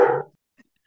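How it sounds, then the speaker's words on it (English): A single short dog bark right at the start, fairly close and clear, then near silence with only faint small sounds. "Is that someone else's dog?"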